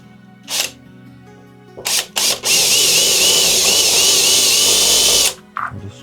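A power drill whirs briefly in short bursts, then runs loud and steady for about three seconds before stopping, followed by small handling noises.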